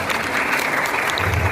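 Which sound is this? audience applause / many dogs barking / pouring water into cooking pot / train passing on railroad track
audience applause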